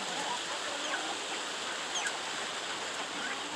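Chickens cluck softly at evening feeding time on a farm while kitchen scraps are put out. The clucking is faint against a steady rushing background hiss.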